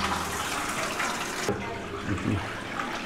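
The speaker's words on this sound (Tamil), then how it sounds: "இப்போ நான் வந்து டேப் ஓப்பன் பண்ணுறேன் பாருங்கள், உள்ளே தண்ணி வரும்." Tap water gushes steadily into a small, cheap manual washing machine, a continuous close rushing flow that changes tone midway as the stream shifts, with faint low sounds beneath.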